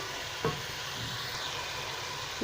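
Chicken browns in a pan for Sindhi chicken pulao, giving a steady close sizzle with a couple of brief stirring scrapes and no voices.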